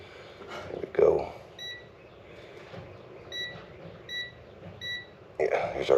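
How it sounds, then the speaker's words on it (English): Short electronic beeps from a multimeter's continuity test on the wiring of a Dixon riding mower, several thin tones repeating at a steady rhythm under low room noise and some handling sounds. "here's our beep noise"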